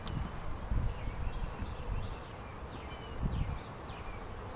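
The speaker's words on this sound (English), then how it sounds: "Foragers coming back with lots of pollen, and they're just not able to get back in." Honeybee foragers carrying pollen circle a trap-out cone on a house in Richardson, Texas, giving a faint, continuous outdoor buzz with a few brief louder passes and no talk.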